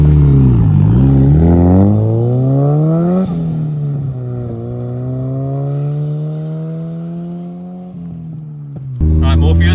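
A 2000 Nissan Silvia S15 Spec R with a big turbo revs hard, its engine note climbing and falling through several loud, close throttle blips and sustained rises, with a sharp burst at the end.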